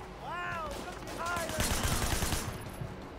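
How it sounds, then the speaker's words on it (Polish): Gunfire in the open-world action game Sleeping Dogs, rapid shots crackling through a busy game mix with a few rising whistle-like tones early on, fairly loud and dense toward the end. "Ktoś do mnie strzela z tyłu, czy mi się wydaje?"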